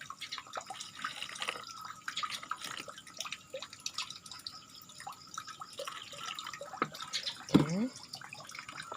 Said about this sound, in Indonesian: setiap kita memasukkan nutrisi ke dalam air